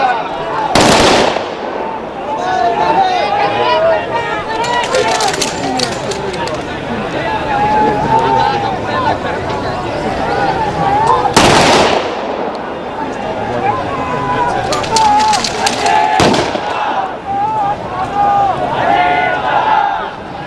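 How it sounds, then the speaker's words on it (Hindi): Police rifle volleys fire a 21-gun salute at a state funeral, with a few sharp loud cracks spaced several seconds apart over a murmuring crowd and a narrator talking throughout. "21 गोलियों की सलामी देते हुए"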